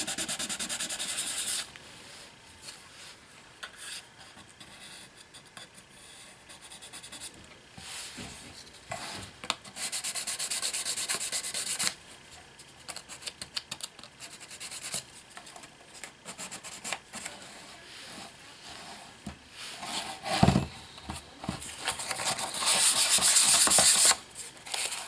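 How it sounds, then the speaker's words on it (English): Hand sanding a resin model part with 400-grit sandpaper gives a steady dry rubbing and scratching that runs the whole time, close up, with louder sustained strokes near the end. "This is a 400 sandpaper that I have in my hand."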